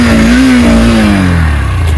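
A Honda CB200X motorcycle engine revs close by, a loud throaty burst that rises briefly and then settles back down.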